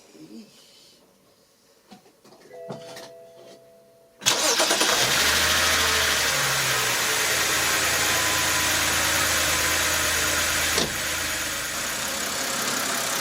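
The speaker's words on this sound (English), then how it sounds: "let's start the car" A 2007 BMW 525i engine cranks and fires after a few quiet clicks, then settles into a steady, loud idle close by with a brief blip partway through.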